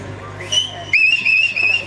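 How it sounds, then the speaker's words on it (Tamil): Person whistling in short high, shrill bursts over a background of voices and crowd noise, fairly close. "விசில் அடிக்கிறார் ரவுடி முண்டை"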